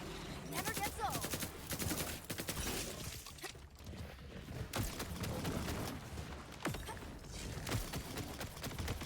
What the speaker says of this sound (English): Bro, this assault rifle kinda sucks. The bouncy bullets.